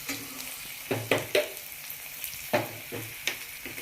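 Ginger garlic paste sizzles in a hot pan while being stirred, a steady frying hiss punctuated by a handful of sharp scraping strokes of the utensil against the pan.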